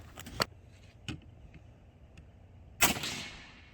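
An Umarex Gauntlet 2 SL30 side-lever big-bore PCP air rifle firing heavy pellets: a sharp crack early, a softer pop, then a louder crack with a brief ringing tail near the end, heard close over quiet background.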